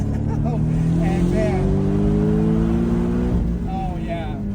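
A Porsche 718 Boxster GTS with sport exhaust and the roof down accelerates hard in first gear, its engine note climbing loud and close while someone talks over it.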